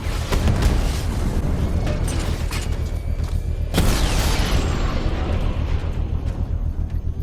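A drone blows up in the video game Batman: Arkham Knight. A sharp, loud blast hits midway and sits over a dense, continuous rumble of booming game action, with no talk in the clip.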